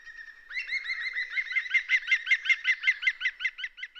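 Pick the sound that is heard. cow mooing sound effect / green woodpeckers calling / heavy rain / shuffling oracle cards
green woodpeckers calling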